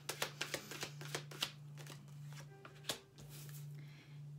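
Oracle cards being shuffled by hand: a quick run of crisp riffling flicks in the first second and a half, then softer sliding and a few isolated snaps, close and fairly quiet over a steady low hum.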